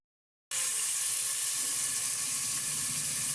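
Raw chicken pieces tipped into hot oil in a pressure cooker, bursting into a loud, steady hissing sizzle after a brief silence and continuing without pause.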